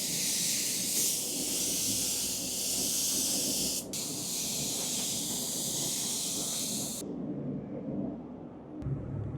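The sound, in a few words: spray gun spraying primer on doors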